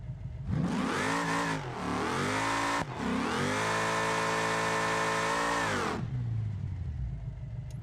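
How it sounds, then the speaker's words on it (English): In the BeamNG game, a car engine revs and drops repeatedly as it shifts through far too many gears, each upshift cutting the pitch, loud and steady for about six seconds before falling to idle. "this thing does not shift well, and it has way too many gears, so it's constantly shifting"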